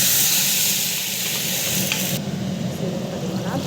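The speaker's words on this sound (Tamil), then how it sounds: "நல்லா வந்து வதக்கிக்கணும்." Upma ingredients sautéing in a pan give off a steady close sizzle and hiss that continues through the whole stretch, with faint stirring scrapes and no talk.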